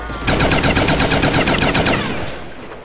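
Automatic gunfire from a hard-recoiling weapon in Call of Duty Nazi Zombies, a loud rapid burst of evenly spaced shots running for about two seconds before cutting off into a fading tail.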